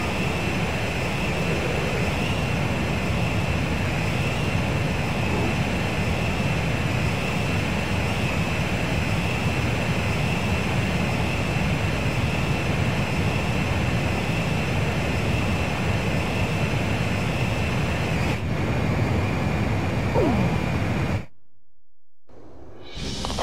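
Jet engines drone in a steady, loud roar during midair refueling in the Ace Combat 5 video game, a continuous whooshing blast with a constant high tone that cuts out abruptly near the end.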